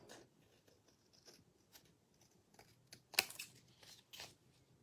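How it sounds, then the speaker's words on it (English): Quiet, close snips and rustles as the edges of a paper card are trimmed, coming in short irregular bursts with one sharper cut near the end. "I'm going to have to do a little trim. Trim on the edges."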